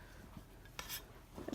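Cheap dollar-store dishes set down on a table, heard as a couple of faint, light clinks and knocks against a quiet room background.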